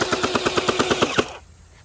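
An X-Shot Glow Hyper Gel blaster fires full auto in a rapid burst of about ten sharp, evenly spaced shots, loud and close, then cuts off abruptly into quiet.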